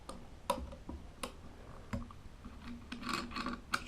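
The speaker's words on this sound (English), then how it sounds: "Screwdriver, turn the takedown knob" A screwdriver turning the takedown knob of a Marlin Model A1 rifle makes close, faint scraping ticks and small metallic clicks in an uneven rhythm, with no voices.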